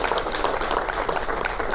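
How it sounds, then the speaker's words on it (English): Audience applause for volunteers at a Star Wars Day at Sea presentation, a dense steady patter of clapping hands lasting a couple of seconds, fairly loud and close with no talk over it. "please, another round of applause for the volunteers"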